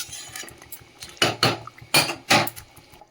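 Eggs added to a pot of egg curry, heard as several close clinks and knocks of a utensil against the pot, with soft stirring scrapes between the louder hits.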